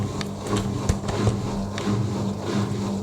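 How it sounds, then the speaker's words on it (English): A Zanussi ZWC1300W Aquacycle 1300 washing machine on a full 1300 rpm spin, giving a steady loud whirring drum roar with a low hum and faint rattles throughout, close up. "This is the machine doing the full 1300 spin."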